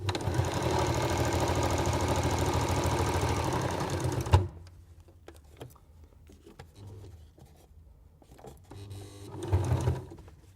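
A sewing machine stitches at a rapid, steady mechanical rhythm through about eight layers of patchwork fabric, close and loud, then stops abruptly, followed by sparse clicks and a short burst of stitching.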